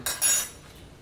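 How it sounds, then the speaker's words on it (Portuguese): A knife slicing through a chunk of jackfruit, one brief crisp cutting burst followed by a fainter scrape, close and clear with no talking. "eu vou cortar esse pedaço aqui ao meio"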